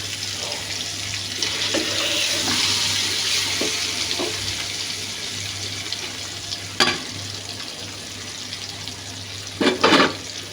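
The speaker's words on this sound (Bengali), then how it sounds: "আমার তেল গরম হয়ে গেছে, আমি মাছ দিয়ে দিব।" Koi fish frying in hot oil over a low flame: a steady close sizzle with a few sharp crackling spatters near the end, no voices.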